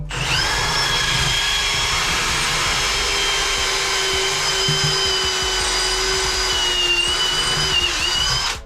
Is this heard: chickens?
no